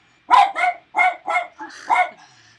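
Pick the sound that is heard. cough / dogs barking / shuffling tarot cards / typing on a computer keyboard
dogs barking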